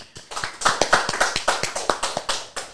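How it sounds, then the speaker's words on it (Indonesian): A single person clapping steadily, about a dozen sharp, evenly spaced claps, close and fairly loud with no talking. "Tepuk tangan buat Sandy Fadian."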